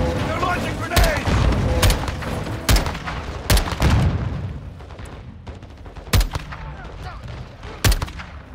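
Grenade explosions and gunfire in Call of Duty: Modern Warfare 2, a string of sharp loud blasts and bangs at irregular intervals amid constant combat noise, with people talking over it.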